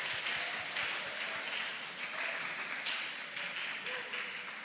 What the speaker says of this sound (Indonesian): Mari beri tepuk tangan untuk mereka semua.